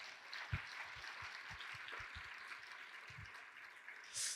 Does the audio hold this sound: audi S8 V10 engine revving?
no